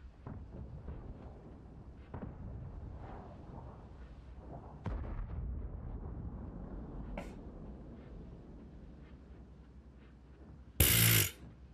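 An FV4005 tank gun fires in World of Tanks, a single loud broadband blast arriving near the end after a stretch of dull rumbling battle ambience with a few muffled thumps.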